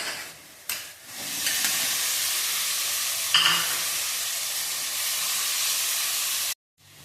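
Boiled potatoes sizzle and hiss loudly in hot oil, a steady frying roar with a brief flare near the middle before it cuts off abruptly.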